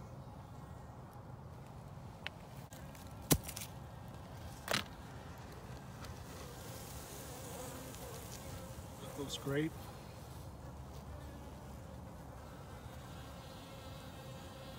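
Honeybees hum faintly around an early-season beehive during an inspection, a soft steady buzz with occasional louder passes and a few clicks, while a person briefly speaks.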